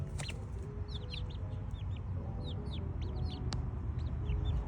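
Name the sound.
pet chickens clucking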